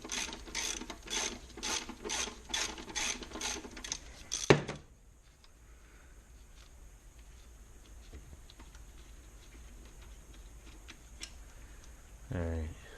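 A ratchet wrench with a 12 mm socket clicks in quick rhythmic bursts loosening valve cover bolts on an NA Miata, close and crisp, then stops into quiet handling, with a brief clatter near the end.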